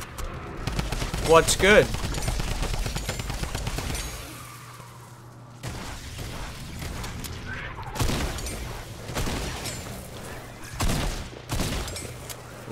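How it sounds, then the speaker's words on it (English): Rapid bursts of drum gun fire in Fortnite's Horde Rush mode rattle out in several dense volleys, loud and close, with pauses in between, while a player talks excitedly over the shooting. "Oh my god, the bloom on the drum gun."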